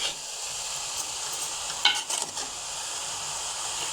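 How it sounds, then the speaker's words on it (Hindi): Grated carrots and sugar being stirred in a pan for carrot halwa, a soft steady scraping and faint sizzle with a brief louder clatter of the spoon midway. "अच्छे से मिक्स करेंगे हम इसको।"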